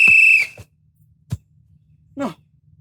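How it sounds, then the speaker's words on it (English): A referee's whistle blows one loud, sustained blast at the start of a children's soccer game, followed by scattered brief noises and a short voiced sound. "Are you going to blow the whistle?"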